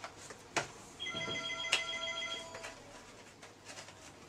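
A telephone rings indoors with a bright, sustained electronic ringing tone for about a second and a half, mid-distance, amid faint room noise and scattered knocks.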